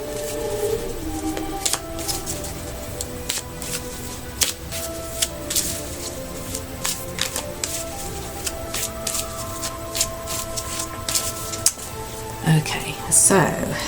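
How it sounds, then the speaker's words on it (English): Oracle cards, a Unicorn Oracle deck, are shuffled by hand, giving soft riffling flutters and light card taps that repeat through the clip, close and quiet over a faint background. "I'll shuffle the cards and see what comes up"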